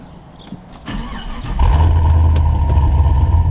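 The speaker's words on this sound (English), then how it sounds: "So I'm just going to start the car here." A car engine, driven with a manual clutch, cranks and catches, then settles into a steady, loud idle rumble close by; a few faint clicks come before the start.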